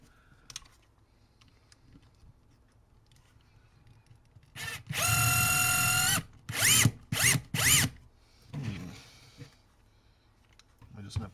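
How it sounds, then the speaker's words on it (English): A power drill bores into old wood in short bursts, one long whirring run followed by three quick pulses, then a rougher grinding moment, all against a quiet room with faint clicks. "Let's go ahead and get our holes drilled."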